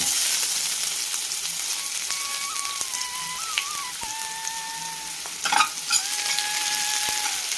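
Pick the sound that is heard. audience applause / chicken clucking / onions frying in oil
onions frying in oil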